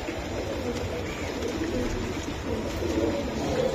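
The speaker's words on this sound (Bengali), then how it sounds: "ওরে আজরাইল কবুতর, বাহ" Giribaz racing pigeons cooing nearby, soft repeated low coos over a dense background murmur of birds and room noise.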